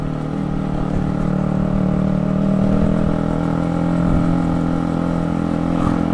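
A Honda CBR150R K45A motorcycle climbs an uphill road, its engine droning loud and steady from start to finish with a slight swell in the middle.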